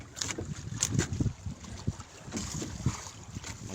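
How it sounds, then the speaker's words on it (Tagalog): Gusty wind buffets a small fishing boat rocking on open water, irregular rumbling bursts and soft thumps of the hull close to the microphone, with no talk. "Magalaw po ang bangka. Medyo mahangin ngayon dito"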